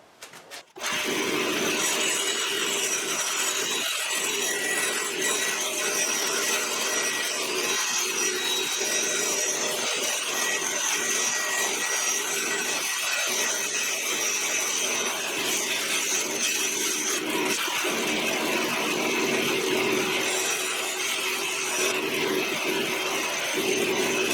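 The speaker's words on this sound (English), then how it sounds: "So I'm gonna cut this on the bandsaw." Bandsaw cutting a strip off a wooden computer case, a loud continuous whirring rasp of blade through wood after a brief start-up, steady and close throughout with slight changes in tone as the cut progresses, no talking.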